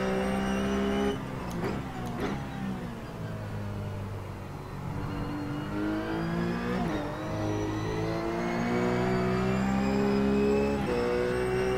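A race car engine in a driving simulator game revs steadily with a strong harmonic whine. The pitch dips and climbs through gear changes and throttle work, loud and continuous with no talk.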